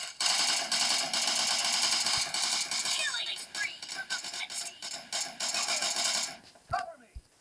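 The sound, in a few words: heavy machine gun fire in the video game PUBG Mobile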